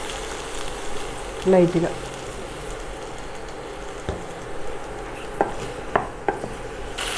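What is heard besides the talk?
chopped tomatoes and asafoetida frying in a pan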